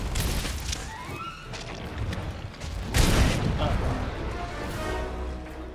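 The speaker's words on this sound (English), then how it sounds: "An explosion." A loud explosion goes off in Monster Hunter World: Iceborne, a broad booming burst about halfway through that rises over dense game noise and rumbling mechanical sounds.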